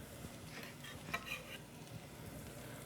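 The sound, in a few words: shallots and garlic sizzling and stirred in olive oil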